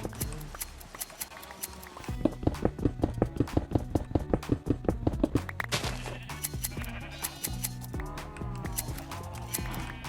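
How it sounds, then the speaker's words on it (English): Minecraft sheep bleating in a rapid burst of repeated game bleats, layered over a steady background music bed, with more scattered bleats following. "Don't shoot my sheeps"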